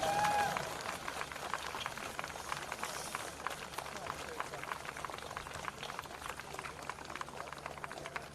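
An audience at an outdoor May Day celebration in Ljubljana claps in a steady, dense patter that sounds faint and somewhat distant.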